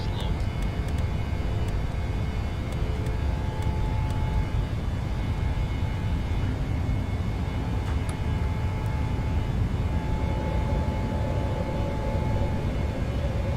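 Airliner engines roaring during takeoff in Microsoft Flight Simulator on a circuit practice at Dublin: a steady, loud jet-engine rumble and whine with faint cockpit clicks and alert tones.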